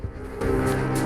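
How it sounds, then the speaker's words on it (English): Low, drawn-out groaning from zombies in The Front, a deep, moaning drone that swells after a brief start and holds steady, fairly close and loud, with no talk over it. "I hear some zombies."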